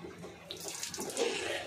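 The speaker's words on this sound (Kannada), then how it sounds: "ಇನ್ನಷ್ಟು ನೀರು ಹಾಕೋ" Water is poured and splashes at home for a short, steady stretch at moderate loudness, with no talk over it.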